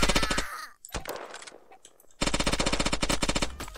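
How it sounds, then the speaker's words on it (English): Rapid gunfire from the Shell Shockers online shooter game, a dense run of evenly spaced shots, a brief quiet gap, then another loud sustained burst, close and dominant. "I think I hear the new shotgun. It's got a much deeper oomph to it."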